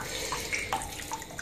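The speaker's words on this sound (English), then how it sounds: "Just running the taps only slightly faster, still just a trickle." Water trickles from a tap during the sparge of an all-grain pale ale brew, a soft continuous splashing and dribbling with small bubbly plinks, faint and alone.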